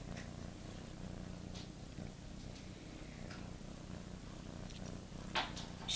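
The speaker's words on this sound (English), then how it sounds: "Oh, you're such a sweet little kitty cat, Teddy." A cat purring steadily and softly close by, a low continuous rumble with a few faint clicks and rustles on top.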